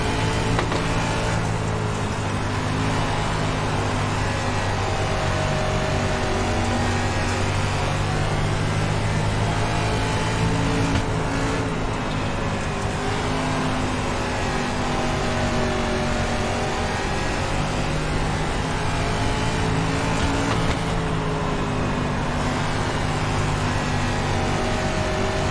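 Race car engine in an iRacing dirt-track race, a loud, steady drone running the whole time with rising and falling revs as the throttle is worked through the corners, with no talk over it.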